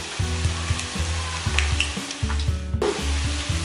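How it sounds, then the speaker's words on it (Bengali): Taler bora, palm fritters, fry in hot oil with a steady close sizzle, overlaid by a repeated rhythmic scraping and knocking pattern of stirring throughout, with no talking. "দেখুন আমার তালের বড়াগুলো ভাজা হয়ে এসছে, বেশি সময় লাগে না ভাজা হতে"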